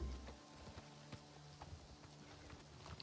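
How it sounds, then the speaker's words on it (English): Horse hooves clip-clop in the game Oblivion, a quiet irregular series of soft thuds at a walking pace over low background ambience. "Why is the illegal horse still following me?"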